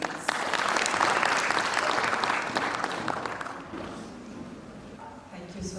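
An audience at a publishing conference breaks into loud, dense applause that holds steady for a few seconds, then thins and fades. A voice begins speaking near the end.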